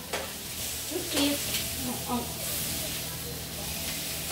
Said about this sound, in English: let's give our steaks a bit of a flip here on the grill